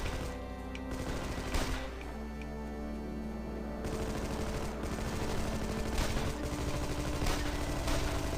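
Rapid bursts of gunfire blast out windows in the Xbox action game Armed & Dangerous, loud repeated automatic shots crackling close with dense, continuous firing through the whole stretch.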